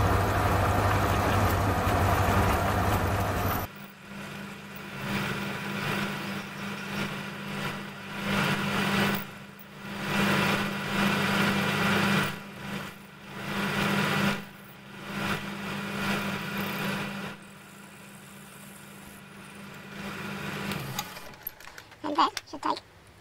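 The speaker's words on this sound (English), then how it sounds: "I'm just cross drilling a 5mm hole for a shaft handle." A drill cross-drills a 5mm hole through a clamp screw handle for a modified Gingery dividing head, its motor whining steadily in surges and dips for about twenty seconds before stopping.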